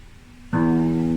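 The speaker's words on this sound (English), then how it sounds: "This is the sound of the E, the 6th string." Open low E sixth string plucked once on a guitar during a beginner lesson, a sudden clear note with rich ringing harmonics that sustains evenly after a quiet lead-in, no talk.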